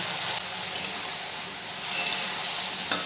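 Cumin powder and ground spices frying with winter vegetables for a vegetable khichuri: a close, continuous sizzle with light stirring and no voices.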